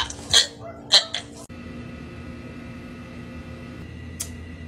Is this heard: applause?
no